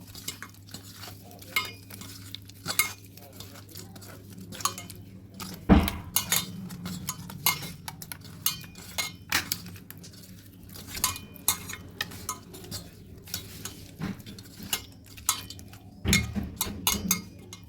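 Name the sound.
mixing katla fish with chili powder and spices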